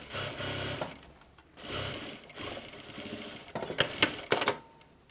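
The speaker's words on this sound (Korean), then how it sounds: "박음질 하실 때 요 솔기가 딱 맞도록 잘 맞추어서 박음질 해주셔야 됩니다" A sewing machine stitches fabric along the seam of a spring dress, rapid mechanical clatter in short bursts separated by pauses, close by and fairly quiet.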